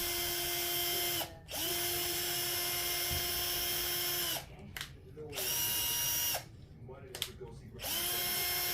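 A power drill drives a screw down into thick wood in three long whining bursts, with sharp pauses between them and a brief ratcheting clatter near the end.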